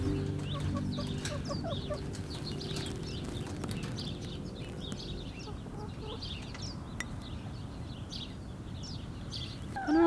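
Chickens clucking near a backyard flower garden with a rustic border, steady soft clucks and calls over a constant low hum, with chirping birds in the background.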